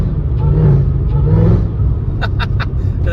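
A supercharged Mercedes E55 AMG engine tuned to 640 hp, heard from inside the car as it pulls at quarter throttle, a steady loud low drone with several clicks near the end.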